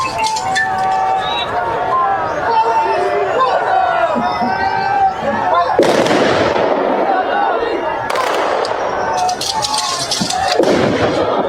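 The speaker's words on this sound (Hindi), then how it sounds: "ये फायरिंग करके अंतिम सलामी दी जाती है फोर्सेस की तरफ से" Forces fire a ceremonial gun salute at a state funeral in Baramati, India, with sharp, loud volleys bursting out over a crowd. Commentary and crowd noise run continuously beneath the shots.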